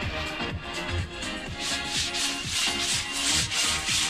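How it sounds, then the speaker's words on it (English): Sandpaper worked by hand over a POR-15 anti-rust coated boat keel, giving a steady run of rhythmic rasping strokes, close and even, with no talking. "we had to rough it up with sandpaper to help the next layer of epoxy adhere better"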